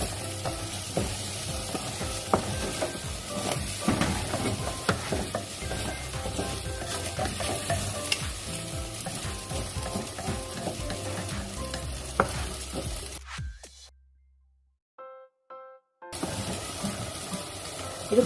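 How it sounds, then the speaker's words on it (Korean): Steady sizzling and scraping as rice is stir-fried over high heat in a pot for abalone porridge, with a brief quiet gap and a few clinks before the stirring resumes. "충분히 잘 볶아주면 약간 토랑토랑한 죽이 만들어지거든요"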